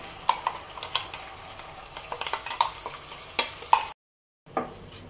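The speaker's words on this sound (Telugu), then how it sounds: "ఈ టమాటా ప్యూరీ మాడకుండా కొంచెం మంచిగా కలుపుకుంటూ దీన్ని మనం వేయించుకోవాలండి" Onion and tomato puree sizzles and fries in hot oil in a pan while a spoon stirs it, with repeated scraping and clinking strokes close up and a steady crackle underneath, briefly cutting out near the end.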